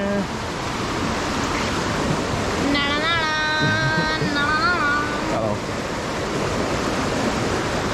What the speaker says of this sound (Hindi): ये पानी जा रहा है, इसके साथ साथ चलते हैं।